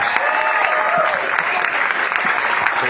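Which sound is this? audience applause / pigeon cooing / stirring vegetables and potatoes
audience applause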